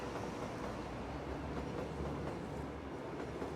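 A train at a station in Cities: Skylines rolls past in a steady, faint rumble with soft clattering, continuous and without talk.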